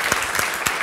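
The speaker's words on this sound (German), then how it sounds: "bitte schon mal um ersten Applaus" A brief stretch of audience applause at a university debate event, steady clapping from many hands with a few sharper claps standing out.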